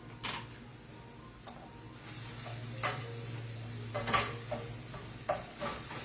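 Ground beef browns in a stainless steel pan with a soft, continuous sizzle, broken by occasional scrapes and clicks of stirring close by.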